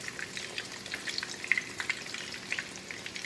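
Steady crackling sizzle of chicken schnitzel frying in hot oil, bright popping spatters scattered throughout, close and continuous with no talking.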